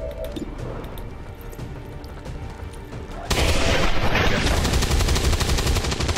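A soldier's gun firing in XCOM 2, a loud sustained burst of rapid automatic shots that breaks in suddenly over the game's background ambience and keeps rattling to the end.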